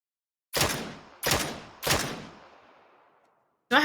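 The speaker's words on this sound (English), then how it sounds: "Sounds like a very fast special gun." Three heavy, widely spaced blasts from a very fast special gun in a video game, each ringing out into a long decaying tail, followed by the sharp start of a fourth shot, loud and close with no talk.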